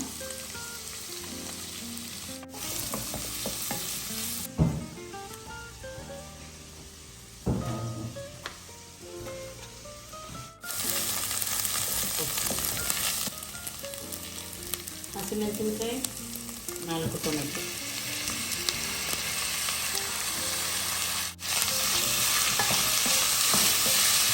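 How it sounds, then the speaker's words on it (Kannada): Onions frying in oil in a home kitchen pan, a steady loud sizzle with scraping stirs throughout, pausing briefly a few times before the hiss returns stronger. "ಫಸ್ಟಿಗೆ ಆಯಿಲ್ ಇಟ್ಟಿದ್ದೀನಿ ಅದಕ್ಕೆ ನೀರುಳ್ಳಿ ಎರಡು ಹಾಕ್ತಾ ಇದ್ದೀನಿ ಈರುಳ್ಳಿ ಸ್ವಲ್ಪ ಫ್ರೈ ಆಗಲಿ"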